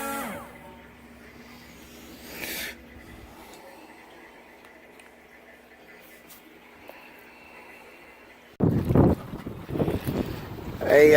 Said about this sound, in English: checking the bait boat out with 15-mile-an-hour winds